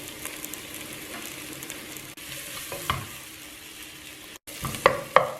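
Onions and tomatoes coated in spice powders sizzle steadily in a pan, stirred now and then with a few scraping clinks of a spoon, close and continuous, with no talking.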